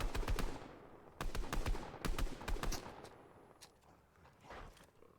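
Rapid bursts of automatic gunfire from a Fortnite match, loud and close, come in clustered volleys with short pauses between them, then trail off into quieter scattered shots and footsteps.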